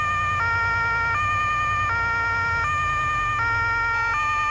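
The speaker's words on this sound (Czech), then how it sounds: "vypnu sirénu, ať je mě slyšet" In Farming Simulator 22, a fire truck siren wails loud and close in a regular two-tone pattern, switching pitch about every three-quarters of a second over a low engine hum, with no one talking.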